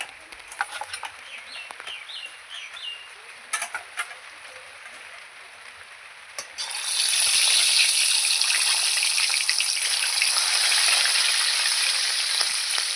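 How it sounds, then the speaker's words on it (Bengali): Live shing catfish go into hot oil in a kadai. Scattered taps and crackles come first, then a loud, dense, close sizzle that holds steady to the end. "তেল গরম হয়ে গেছে এবার মাছগুলো আমি ভেজে নেবো"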